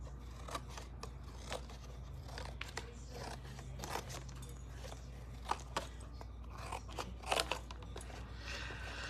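Scissors snip off excess material from a patriotic holiday home decor craft piece, a series of soft, crisp cuts and crunches at close range, quiet and uneven in rhythm.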